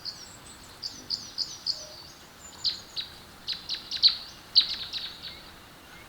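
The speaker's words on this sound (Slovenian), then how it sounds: "Zdaj smo tiho in lahko slišimo ptice." High, thin bird chirps repeat in quick irregular bursts against a quiet background, clear and fairly close.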